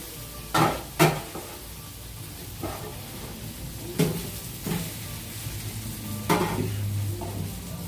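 Bacon and chorizo fry in a hot pan with a constant crackling sizzle, punctuated by several sharp scrapes and clinks of a utensil stirring against the pan, close and fairly loud; no speech.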